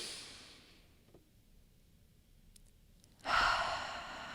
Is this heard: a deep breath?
yes